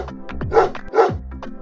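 A dog barks twice in quick succession, sharp and close, surrounded by smaller yips and whimpering sounds.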